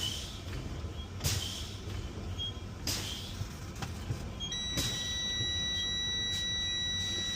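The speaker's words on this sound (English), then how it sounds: "My lights and buzzers activated at 60 PSI." A truck's low air pressure warning buzzer comes on at 60 PSI partway through and holds a continuous high tone, with brief hissy bursts of air brake release before it starts.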